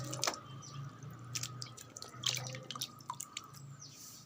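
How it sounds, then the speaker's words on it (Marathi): Turmeric rhizomes being washed clean in water, with quiet drips, small splashes and soft squishy handling sounds at close range against a low steady hum. "तर आता ही मी हळद स्वच्छ धुवून घेणार आणि ह्यापासून बनवणार आहे हळदीची पावडर."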